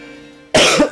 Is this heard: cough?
yes